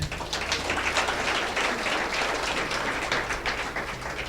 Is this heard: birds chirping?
no